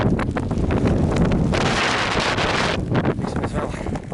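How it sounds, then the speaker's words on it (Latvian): Strong wind buffets the microphone on the mountain climb up Carrauntoohill, Ireland's highest peak, in rain, roaring loudly and steadily in close gusts, with a heavier blast midway. "Lietus, vējš."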